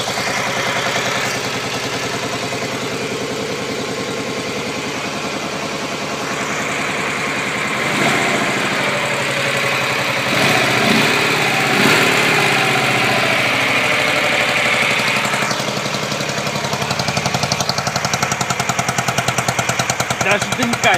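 Dnepr K-650 motorcycle engine running steadily at idle, a loud continuous rattling throb up close with a slight rise in revs midway, while people talk over it.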